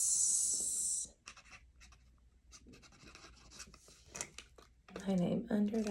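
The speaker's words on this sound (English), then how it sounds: "We are going to write our name under one of these flaps." Pen writing a name on paper under a flap of a folded paper fortune-quizzer: short scratchy strokes with pauses, fairly close and faint, with a person talking before and after.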